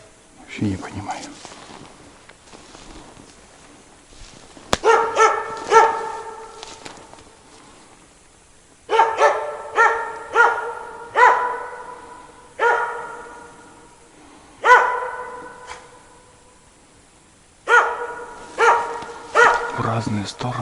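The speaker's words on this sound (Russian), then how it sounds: "В разные стороны лает." Dog barks in several bursts of three to five sharp yaps each, fairly close, spread across a rural lakeside morning, with quiet pauses between the groups.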